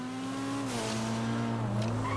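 A Honda S2000 with its high-revving VTEC engine, shown as the Dinka RT3000 in GTA Online, screams loudly and steadily near the listener, pitch dipping and climbing as the revs shift.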